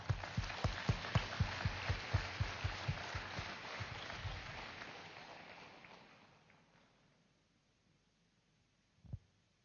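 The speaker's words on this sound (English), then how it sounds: "Let's clap for that." Meditation-gathering audience clapping together in a steady, even rhythm, sharp strokes that soften and fade out over several seconds, followed by quiet and one last faint thump.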